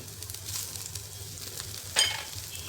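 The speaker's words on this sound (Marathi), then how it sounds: "आता टाकायचं कांदा. स्लाइस करून टाकायचं, म्हणजे लवकर भाजतं." Sliced onion frying in oil in a pan, a soft steady sizzle with a louder burst of crackle near the end, close by and without talk.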